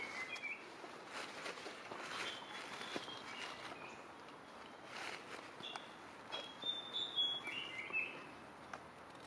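Orange-bellied flowerpecker giving a few brief, high, thin call notes around the middle to later part, faint and distant over a steady outdoor background hiss with light rustling.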